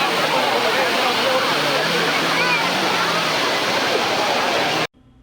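Water roars over the weir of the overflowing Srinivasa Sagar lake, swollen by rain and HN Valley water; a loud, steady broadband rush fills the clip and then cuts off abruptly near the end.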